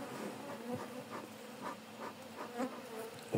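Dense, steady swarm of honey bees buzzing around an aggressive hive, rising and falling in soft waves with occasional louder passes close by and no voices.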